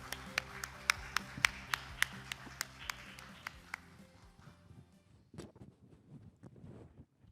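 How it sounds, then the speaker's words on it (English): Audience applause welcoming a moderator and panelists onto the stage at a Korea–Singapore future mobility seminar, a few sharp claps over a dense crowd patter that fades out over several seconds. "Let's give a round of applause to welcome our moderator and panelists on the stage."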